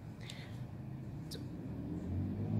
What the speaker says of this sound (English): motorbikes out there, sorry about that noise.